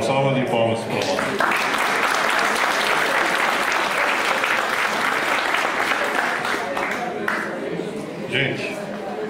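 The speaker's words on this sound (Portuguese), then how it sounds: "Uma salva de palmas para nós." Loud, sustained applause from an audience at an academic thesis session, dense clapping filling the whole stretch with a few voices mixed in before it tapers slightly near the end.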